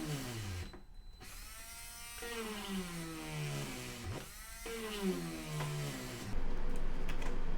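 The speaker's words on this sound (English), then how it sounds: "I'm going to drill this out and get the general size of it" A small power drill whines in repeated bursts while drilling out a plastic model hull part, pitch sliding down as it bites in and rising again between passes, close and fairly quiet.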